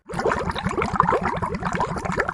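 Hot water pours steadily onto passion fruit tea bags in a container, a close, continuous splashing trickle running the whole time with no talk.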